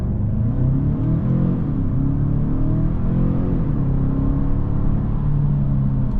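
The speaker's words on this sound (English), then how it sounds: "Now we're using the paddles in Sport Plus and really nice crisp engagement on the shifting with these paddles." A 2025 Genesis G70 2.5T sedan accelerating hard in Sport Plus with paddle shifts, a loud continuous engine drone rising in pitch, dipping at gear changes and climbing again, heard from inside the car.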